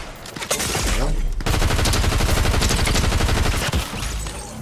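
SMG fire in the Fortnite video game, with dense rapid bursts of loud, close gunshots rattling almost continuously after a brief opening volley.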